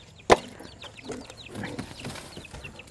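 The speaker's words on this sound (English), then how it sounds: "I knew I heard baby chicks." Baby chicks in a small enclosure, with a sharp thump near the start followed by faint scattered high cheeps and soft rustling throughout.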